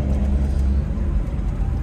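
A 1961 Chevrolet Impala's original small-block V8, a 307 or 327 paired with a three-speed column shift, idles with a deep, steady low rumble, loud and close, with no talking.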